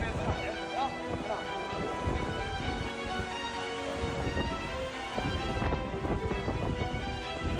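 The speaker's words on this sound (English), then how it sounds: "heavy rain triggered localized flash floods, disrupting travel and urging people to avoid low-lying paths" Heavy rain pours steadily during flash flooding, a dense continuous roar with rumbling thunder mixed in, loud and unbroken throughout.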